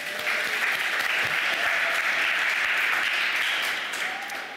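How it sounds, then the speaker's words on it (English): An awards ceremony audience claps in a full, dense round of applause that holds steady for several seconds before starting to fade. "So give yourselves a round of applause."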